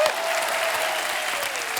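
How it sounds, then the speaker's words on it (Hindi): A studio audience on a Hindi comedy talk show breaks into loud, dense applause. The clapping stays steady and full throughout, with faint voices beneath it. "जोरदार तालियां होनी चाहिए।"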